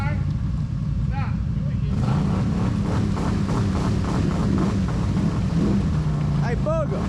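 A tuned, turbocharged Polaris RZR engine and exhaust roar steadily at drag races at Red Oak Hollow, a continuous loud drone, while people shout over it and short sharp squeals cut through.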